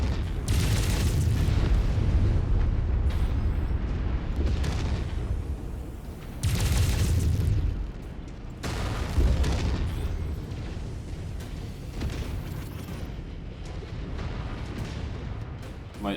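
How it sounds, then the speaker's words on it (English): Heavy PPC cannon fire strikes a mech in Mechwarrior 5, a continuous roar of booming explosions with several loud blasts and low rumbling impacts spread across the whole stretch, with no voices. "Still being hit by that PPC cannon,"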